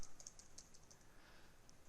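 A computer keyboard clicks in a quick, light run of keystrokes, fairly close and quiet, with no talking.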